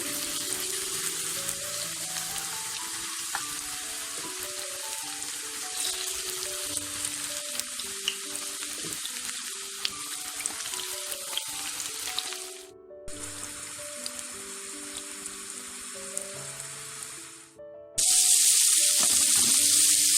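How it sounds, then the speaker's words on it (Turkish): Steady sizzling of meatballs frying in hot oil for toothpick kebab, a continuous crackle with soft music in the background and a brief break partway through. "Köfteleri kızartıyoruz şimdi de."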